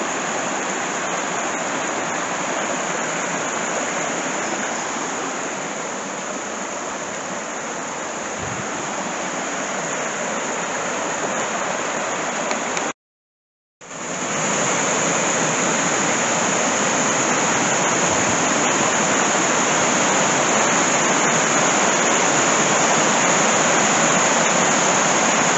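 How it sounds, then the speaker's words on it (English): A small waterfall in Holehird Gardens near Lake Windermere, a loud, continuous close-up rush of falling water that fills the whole stretch, broken by one brief cut to silence midway. "Love the sound of running water."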